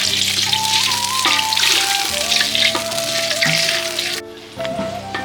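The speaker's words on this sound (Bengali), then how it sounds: "জল দিয়ে দিলাম, ভালো করে সেদ্ধ হবে পেঁয়াজটা" Onions in a pan with added water for biryani give a loud, continuous bubbling sizzle with scattered pops and clinks, easing slightly near the end, with no voices.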